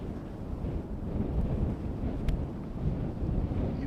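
Steady wind buffets a microphone in an open field at Schiphol Airport, a continuous low rumble that swells and eases without pause.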